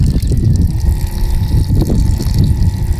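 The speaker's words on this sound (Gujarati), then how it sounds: "આમ પાવું પડે પાણી." Water is poured onto brinjal plants in a field, producing a loud, steady splashing gush close by without a break.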